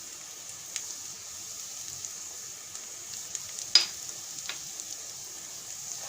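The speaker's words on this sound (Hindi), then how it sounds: "अब इस प्याज को हमें ब्राउन होने तक इसको अच्छे से हमें फ्राई करना है।" Onions frying in a pan with turmeric, cooking for a karela (bitter gourd) dish, give a faint, steady sizzle with a few sharp spatter pops and light stirring scrapes.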